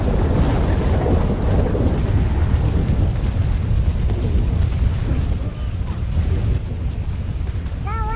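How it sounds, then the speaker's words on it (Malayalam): Heavy rain with rumbling thunder, a steady loud roar of downpour filling the whole stretch, with brief faint higher tones near the end. "മഴയാണല്ലോ"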